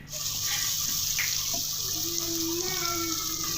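Water pours steadily with a continuous gushing splash into a cooking pot of spiced potato and fenugreek. It is close and fairly loud, with a low background hum.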